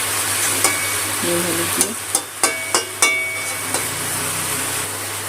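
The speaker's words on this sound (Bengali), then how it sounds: "ভালো করে নেড়ে নিচ্ছি" Snake gourd fries in a pan with salt and turmeric, a soft sizzle running throughout as a spatula stirs with a series of sharp taps and scrapes against the pan, while someone speaks briefly.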